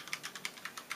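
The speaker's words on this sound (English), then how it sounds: "people like the sound of mechanical keyboards" Rapid typing on a mechanical keyboard, a steady run of about eight crisp clicky keystrokes, close up and alone without talk.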